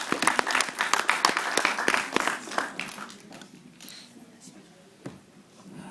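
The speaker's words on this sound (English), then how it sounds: "Let's give a round of applause." A small crowd at a hypnotist show claps briskly for a few seconds, the applause thinning and fading out, with a faint voice underneath near the end.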